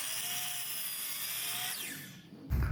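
A power saw cuts a 25-degree bevel through wood, giving a steady, close whine that runs for about two seconds, then fades out before a loud low clunk at the end.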